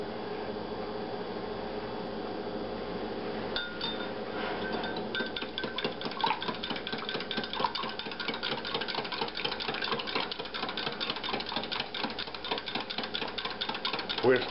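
An electric mixer whisks waffle batter with soft butter, giving a steady motor whir with a rapid rhythmic clatter of beaters against the bowl that grows busier partway through.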